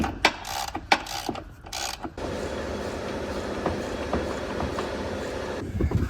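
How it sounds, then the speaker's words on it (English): A ratchet with an 18mm socket on the frame bolts of a Jeep Wrangler front bumper: sharp clicking and clanking for the first couple of seconds, then a steady mechanical whirr with faint rhythmic ticks, close and moderately loud. "You'll use an 18mm socket."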